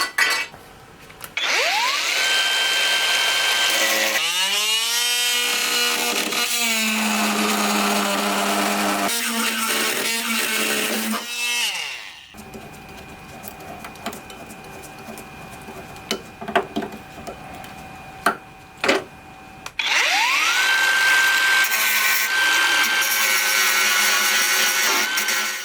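A power tool, likely a grinder with a cutting disc, cuts a metal repair piece for a Citroën BX in a garage, with loud whining bursts that rise and fall, then a quieter stretch of clicks and handling before the cutting resumes.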